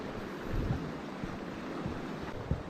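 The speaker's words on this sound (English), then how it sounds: "The next waterfall is Mallion Spout." Mallion Spout waterfall near Goathland on a winter walk gives a steady, moderate rush of falling water, a continuous broadband roar with faint thuds underneath and no voices.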